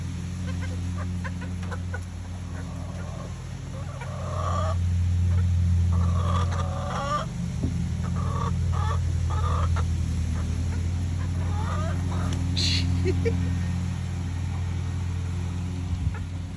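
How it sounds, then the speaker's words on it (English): Several chickens cluck and squawk nearby in scattered bursts over a low steady hum in the background. "Chicken attack."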